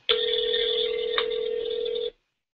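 A steady electronic telephone ringing tone on an outgoing call plays as one unbroken burst of about two seconds, then cuts off into silence.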